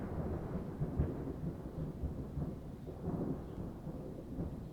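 A thunderstorm sound effect for an audio drama: low rolling thunder rumbles in repeated swells over a soft bed of rain, fairly quiet and with no voices.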